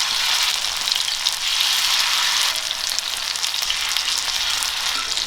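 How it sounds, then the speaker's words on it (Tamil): Marinated fish pieces fry on a hot tawa in oil, a loud, dense, continuous sizzle close by with slight swells in intensity and no talking. "ஆயில் சூடானதுக்கப்புறமா நம்ம மேரினேட் பண்ணி வச்சுருக்கிற ஃபிஷ் பீசஸ் எல்லாத்தையுமே எடுத்து வச்சு நம்ம ரோஸ்ட் பண்ணிக்க போகிறோம்"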